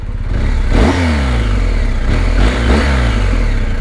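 BMW R1250GS TE Triple Black boxer engine on its stock exhaust can, blipped twice on a cold, miserable day, each rev rising sharply then falling back to a lumpy idle, loud and close.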